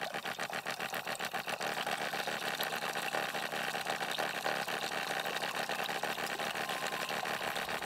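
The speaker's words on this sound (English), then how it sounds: "turn the pump on" A Geyser shower water pump runs steadily after a field fix for shutting off when too hot, a continuous buzzing, rapidly pulsing motor hum held close and loud throughout with no break.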